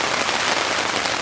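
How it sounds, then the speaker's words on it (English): Heavy rain drums densely and loudly on a camping tent during a wind storm, a constant close hiss of countless drops with no pause. "that rain's really picking up now"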